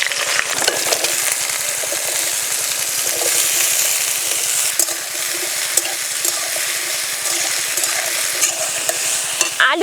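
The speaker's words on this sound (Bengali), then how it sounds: "ওই তেলেই আলু ফুলকপি দিয়ে দেব" Potato and cauliflower pieces fry in oil left from roasting peanuts, a loud, constant sizzle broken by rapid rhythmic scraping and clinks of a spatula stirring the pan, close up with no talking.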